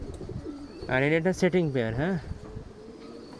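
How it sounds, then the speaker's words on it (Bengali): An imported show pigeon kept in a loft coos once, close by, with a drawn-out, rolling call lasting about a second, while someone talks just before and after it. "সুপার কোয়ালিটির একটা কবুতর"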